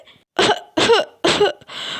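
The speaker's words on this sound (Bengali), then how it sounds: "ওরি বাবা খুব কাশি হচ্ছে" Three harsh, close coughs in quick succession followed by a breathy throat sound, loud and alone.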